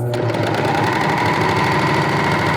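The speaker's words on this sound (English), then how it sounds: "So now I'm going to take my fabric, pull it to the side, and keep serging." A serger overlock machine runs steadily through fabric for the whole stretch, a loud, continuous mechanical whir with a fast stitching rhythm, close and alone with no voices.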